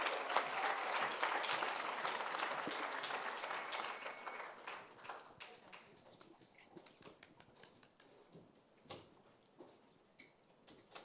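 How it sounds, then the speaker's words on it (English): Sustained audience applause at a festival stage presentation by a high school team, loud and dense at first, then thinning into scattered claps and a few whoops toward the end. "please give them another very big round of applause"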